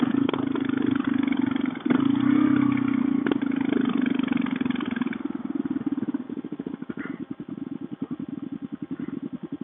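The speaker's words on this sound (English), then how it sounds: "Reese's KLR will eat a standard KLR any day of the week" A Kawasaki KLR650 motorcycle engine fitted with a Mikuni carburetor runs loud and close, holding a steady drone before breaking into a rapid, pulsing throb as it settles toward idle.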